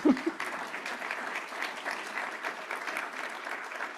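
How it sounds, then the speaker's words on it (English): At a conference closing plenary, the audience breaks into sustained, moderately loud applause from many hands, holding steady after a brief sound at the start. "Give yourselves a round of applause."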